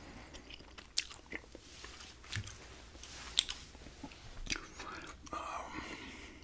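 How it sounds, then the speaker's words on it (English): Close, wet gum chewing with steady smacks and crisp clicks, over soft whispered rambling throughout. "just a gum chewing ramble here today"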